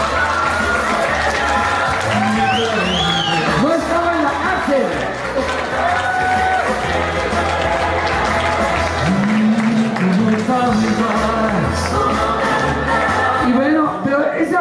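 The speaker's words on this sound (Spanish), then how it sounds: "El aplauso para él." A television studio audience applauds and cheers for a guest on a variety show. The clapping is loud and sustained throughout, with music and shouting mixed in.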